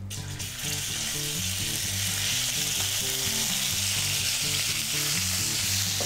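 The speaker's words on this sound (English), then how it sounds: "So, now a bit of oil in your pan. Nice hot temperature. There's no medium heat today. And now your rump goes in." Rump steak searing in a hot oiled pan for a teriyaki beef stir-fry, a loud dense sizzle that holds steady for several seconds, with an underlying tonal hum and no speech.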